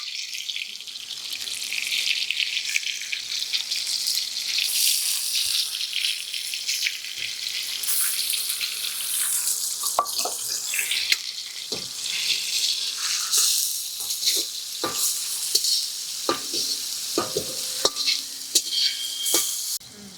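Ground ginger garlic paste frying in hot oil in a pan for a chicken dish, a steady bright sizzle with scattered clicks and scrapes of stirring throughout.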